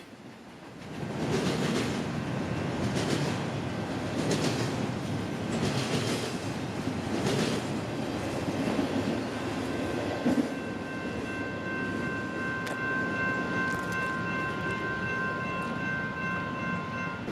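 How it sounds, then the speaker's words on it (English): A southbound BNSF intermodal freight train passes at length with a steady rumbling roar and rhythmic wheel clatter, and a train horn sounds faintly later on. "making the BNBY LAC4 a southbound intermodal train from North Bay to Hobart Yard in LA"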